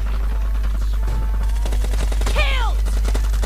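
Rapid bursts of gunfire crackle in PUBG Mobile over a constant low hum and game sounds, with a descending tonal sweep cutting through midway.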